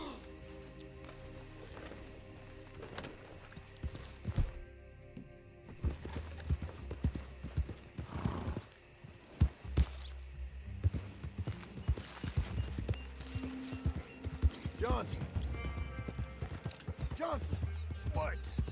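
In Red Dead Redemption 2, horse hooves clip-clop along at a steady walking rhythm, fairly quiet and mixed with bits of game ambience, with voices talking over parts of it.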